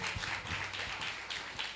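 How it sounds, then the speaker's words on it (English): A small group gives a faint round of applause after a talk on AI and art, a soft patter of scattered claps heard at a distance. "Round of applause."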